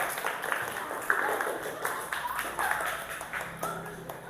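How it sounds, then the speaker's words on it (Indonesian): Children applauding for a group of classmates in a fourth-grade classroom, a dense spread of clapping with a few sharper claps standing out, steady for several seconds with a murmur of voices beneath. "Tepuk tangan buat kelompok 5."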